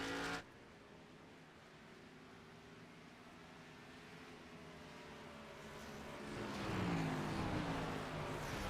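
A race car engine at Road America in a racing simulator, held at a smooth, steady throttle. The drone stays even and moderately loud, then swells slightly near the end with no voices.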